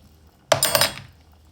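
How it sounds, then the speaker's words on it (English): A spoonful of sugar clinks into a pot of Jamaican rice and peas, one brief bright metallic clatter up close, alone against quiet. "we're going with a spoon of sugar"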